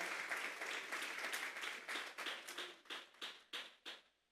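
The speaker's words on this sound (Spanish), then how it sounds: "Denle esa ofrenda de palmas a Dios en esta mañana" A church congregation claps for several seconds as a sustained round of applause. The clapping thins into a few separate, distinct claps as it fades, soft and a little distant.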